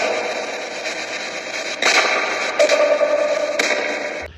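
Sharp impulsive bangs, two or three distinct cracks spaced over a few seconds, heard against steady background hiss during a paranormal investigation at Robbers Cave, sounding like distant gunshots.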